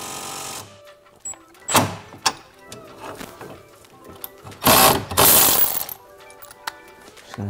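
A power tool spinning off a strut nut on a Dodge Challenger during an air suspension install, loud whirring bursts of varying length with short pauses between them, close by.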